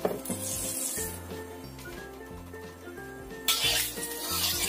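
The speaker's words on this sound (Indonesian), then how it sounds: "Ini kita goreng dulu telurnya ya, tahunya sama telurnya tadi." Tofu and egg mixture frying in hot oil, a steady close sizzle with crackles that swells louder near the end, over a faint background hum.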